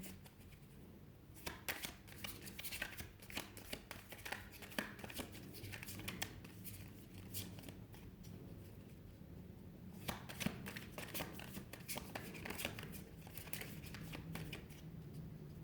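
Tarot cards being shuffled in quick, steady riffling bursts that run through most of the stretch, close and fairly loud, with short pauses between the runs.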